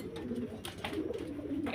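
Running pigeons coo softly in a brief low burble, with a faint voice and some handling noise nearby.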